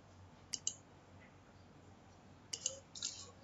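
Computer mouse clicks during setup of a Facebook app on a developer site, two pairs of sharp, quiet clicks about two seconds apart against near silence.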